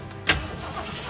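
A 1970 AMC AMX V8 cranks and fires with a short sharp burst, then settles into a steady rumbling idle at close range with no talking.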